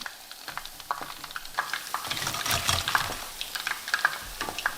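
Salted chicken pieces fry in hot oil with a steady, busy sizzle and crackle, moderately close, with light stirring clatter over the top.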